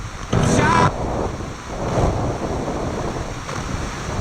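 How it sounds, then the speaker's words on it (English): Outdoor wind buffets the microphone at a graveyard beside a marble church in the Poison Glen, a loud rushing roar with gusty swells and a stronger blast early on, and faint voices underneath. "It's a bit windy."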